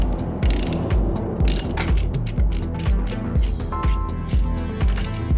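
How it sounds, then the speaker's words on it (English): Ratcheting 17mm wrench tightening a K&N oil filter on a Kawasaki Z900 during an oil change, a close, rhythmic series of quick clicking pawl strokes repeating steadily with short pauses between pulls. "I can use that 17mm wrench from before and tighten this thing down"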